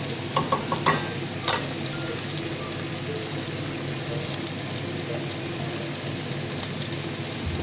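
Chopped tomato sizzles and fries in a pan for chicken afritada while a utensil stirs it, with a few sharp scraping clicks early on over a continuous close crackle.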